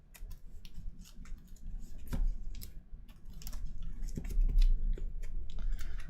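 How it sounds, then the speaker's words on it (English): Cards from the DC Deck-Building Game being shuffled by hand, a steady run of quick, crisp papery clicks and flutters at close range with a few louder snaps, and no voices. "We're gonna shuffle, shuffle, shuffle, get them mixed up."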